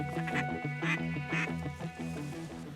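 Duck calls blown during an October duck and goose hunt in Wyoming, a rapid run of loud, raspy quacks repeating in close bursts over about three seconds with a faint voice underneath.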